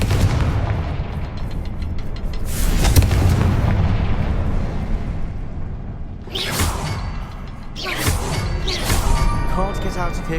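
Confringo blasting spell explosions in the Hogwarts Legacy video game, booming blasts with whooshing bursts and crackling debris over rumbling combat noise, loud and close, with a spoken voice briefly in the mix.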